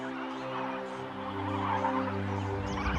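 A flock of flamingos at a toxic soda lake calls in a dense chorus of honking, gobbling cries, steady and close, with no voices.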